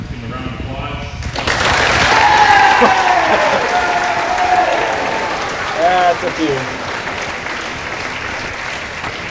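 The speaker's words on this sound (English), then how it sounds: "Give them a round of applause." Applause breaks out from a high school gym crowd for graduating grade 12 volleyball players before a provincial 1A gold medal game, swelling to a sustained, loud clatter of clapping and cheers, with a voice speaking briefly over it.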